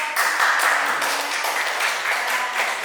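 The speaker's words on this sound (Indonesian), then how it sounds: "tepuk tangan untuk" Applause from a small audience at a school gathering, fairly close clapping in uneven bursts that swell and dip over a few seconds.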